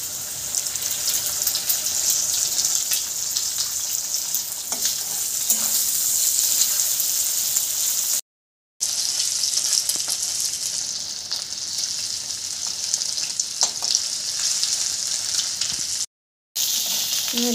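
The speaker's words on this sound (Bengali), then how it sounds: "আলুটা লাল করে ভাজা হয়ে গেছে, এবার আমি এর মধ্যে একটা ডিম ফাটিয়ে দেব" Potatoes and an egg fry in oil in a home pan, giving a steady, bright sizzling hiss that runs loud and continuous, with no voices.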